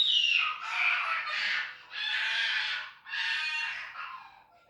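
Children play and squeal in high-pitched bursts, several loud overlapping cries in close succession, quite near, with no other talk.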